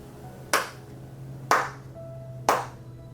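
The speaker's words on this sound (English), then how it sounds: "You can also start it by simply making 3 hand claps." Three sharp hand claps, evenly spaced about a second apart, close and clear over a quiet room hum, with no talking.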